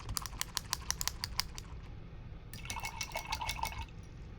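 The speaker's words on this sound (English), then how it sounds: "I'm going to wash my brush again." A paintbrush is swished and rinsed in a water cup with light splashing and dripping, then tapped against the rim in quick clicks during an acrylic popcorn painting session.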